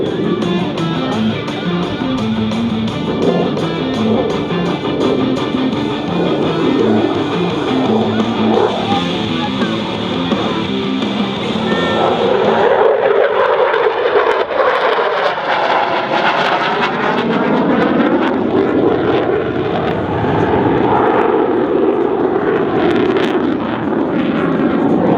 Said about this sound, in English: he will accelerate rapidly and snap the Fighting Falcon through 3 aileron rolls